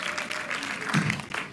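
Audience applause at a film screening, brief and steady clapping from a crowd filling the room at moderate level with a few voices mixed in.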